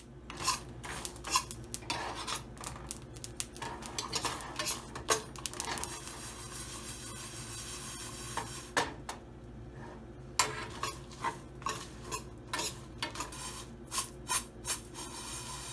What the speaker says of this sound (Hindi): तो हम इनको हल्का सा भूनेंगे, फिर सबको मिक्स करेंगे